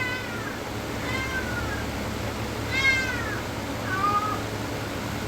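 A cat meows several times, rising and falling calls repeated about three or four times at moderate distance over a steady background hum.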